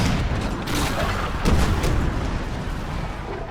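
An artillery battery fires in the strategy game Empire: Total War, a dense, continuous rumble of distant booms and cannon reports with a slightly stronger blast in the middle.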